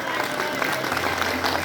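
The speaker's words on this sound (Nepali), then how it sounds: "जोरदार तालीले स्वागत गरौँ" Applause at a ceremony for a dance director receiving a certificate, a dense crowd clapping continuously and fairly loud, with some voices mixed in.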